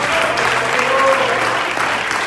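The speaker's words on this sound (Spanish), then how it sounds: "Un aplauso fuerte para el Señor en este momento." Church congregation applauding loudly for the Lord, a dense, steady wash of clapping from many people throughout, with a few brief voices mixed in.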